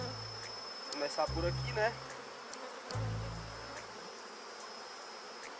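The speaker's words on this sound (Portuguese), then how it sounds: "aqui a gente vai agora estar abrindo aqui o enxame" Honey bees buzzing as a swarm's hive box is opened for splitting, a low droning hum in uneven bursts close to the recorder, while a person speaks Portuguese briefly over it.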